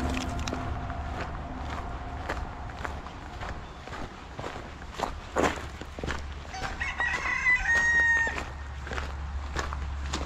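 Footsteps and movement in a farmyard with chickens clucking and a rooster crowing briefly partway through, moderately distant.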